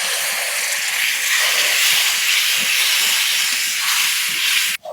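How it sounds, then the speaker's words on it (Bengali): Water poured onto turmeric and red chilli powder frying in a hot pan for prawn malai curry sets off a loud, sustained steam hiss that continues steadily for several seconds before cutting off abruptly. "জল দিলাম যাতে মশলাটা না পুড়ে যায়"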